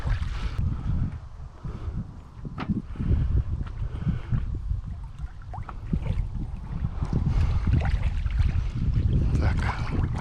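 Strong gusting wind buffets the microphone in rough, uneven bursts while fishing with a cast net, with faint water sloshing beneath.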